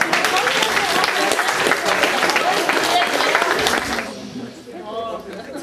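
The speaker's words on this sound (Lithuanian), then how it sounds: "Palaikykite jos plojimais." An audience at a school centenary celebration applauds loudly and steadily, the dense clapping carrying on for about four seconds before fading into a quieter murmuring hall.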